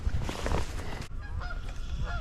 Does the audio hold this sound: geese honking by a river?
yes